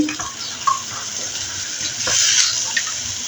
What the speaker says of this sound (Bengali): ফুলকপিটা দিয়ে দিচ্ছি কারণ ফুলকপিটা সিদ্ধ হইতে একটু সময় লাগবে এই জন্য আলুর সঙ্গে দিয়ে দিচ্ছি